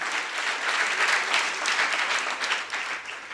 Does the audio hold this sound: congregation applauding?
yes